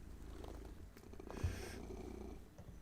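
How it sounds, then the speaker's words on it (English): A cat's quiet, steady purr rumbles low and continuous from close range for the whole stretch, with a faint hiss of higher noise over it. No voices are heard. "I'm sure you can hear him purring away."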